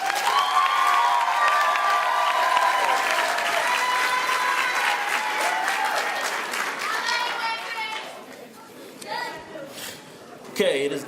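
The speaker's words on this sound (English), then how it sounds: "Give her another round of applause" Sustained applause from a graduation audience at a Fremont College ceremony, steady and loud for most of the stretch before thinning out, with scattered cheers and voices mixed in.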